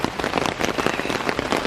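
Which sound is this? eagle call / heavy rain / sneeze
heavy rain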